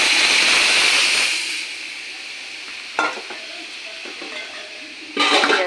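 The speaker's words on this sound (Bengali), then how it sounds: "এবারে মুগ ডালটা ফোড়ন দিয়ে দেবো।" Mung dal hits hot oil for tempering with a loud burst of sizzling that quickly settles into a softer, steady crackle, with a couple of later spits and clatters.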